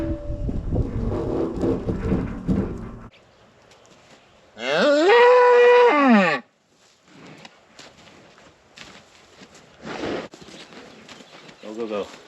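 A bull moos loudly and close during turnout on a cattle farm, one long drawn-out call between bursts of talking and rustling outdoor noise.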